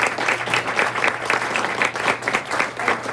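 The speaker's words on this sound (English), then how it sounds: "Stand and we skip the Heidi and our district great round of applause." A room of attendees at a Rotary district club meeting stands and claps in a warm round of applause, dense rhythmic clapping that swells and dips continuously without any speech.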